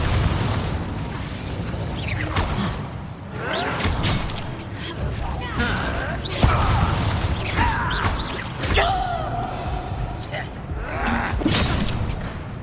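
Incendio fire spell cast in Hogwarts Legacy combat, with booming blasts and bursts of flame over constant battle noise, several sharp impacts scattered through the fight, with voices speaking at times.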